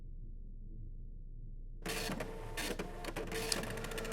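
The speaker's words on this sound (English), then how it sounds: "Print out the poem to read it." In a video game, a printer prints a poem after a near-silent start, then whirs mechanically with a rapid, rhythmic clatter of the print head, loud and close, with no voices.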